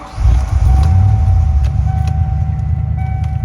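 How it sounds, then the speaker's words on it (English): A Ford F-150 pickup idling and moving off, a steady low engine rumble held close and loud throughout with faint clicks above. "now it's time to move my truck"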